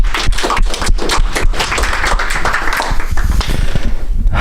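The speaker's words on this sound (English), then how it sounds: "So let's give a round of applause." Dense, sustained applause from a conference audience, a steady wash of many hands clapping for several seconds without talk.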